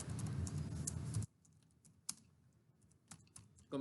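Fast, dense typing clatters on a computer keyboard, then breaks off. A few scattered single keystrokes follow in a quiet room.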